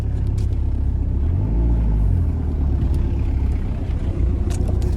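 An old car's engine idles steadily after starting, a continuous low rumble with a brief rise in pitch partway through, close and loud throughout.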